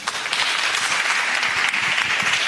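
Sustained applause from an audience at a film festival closing gala, a dense, steady wash of clapping filling the whole stretch with no voices over it.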